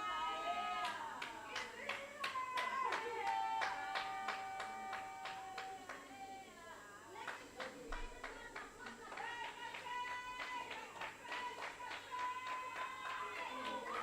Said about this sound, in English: You can just hear the encouragement from the crowd